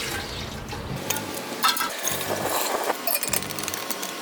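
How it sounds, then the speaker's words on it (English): Concrete stain poured into a pump sprayer, a continuous splashing, gurgling liquid stream with some plastic handling noises, close and fairly loud with no talk. "So we're gonna go ahead, pour it into the sprayer."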